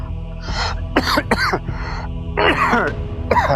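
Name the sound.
coughing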